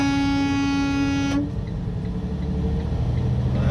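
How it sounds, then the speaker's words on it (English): Frac sand hauling truck on the road sounding a loud, steady air horn blast for over a second that cuts off abruptly, leaving engine and road rumble underneath. "I had to honk the horn at him because he was about to do it."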